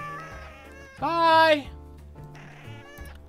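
Cartoonish cats meow repeatedly in the video game Cat Fortress, a loud drawn-out yowl in the middle framed by shorter meows, with a person talking over them.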